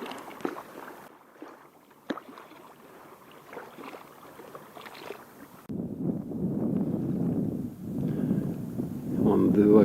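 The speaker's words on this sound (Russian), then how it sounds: "Вон 2 катера плывут, видно, да?" Two motorboats pass on a river by the dam in Yakutsk, a low engine drone rising from the middle of the clip and building toward the end, with voices heard earlier.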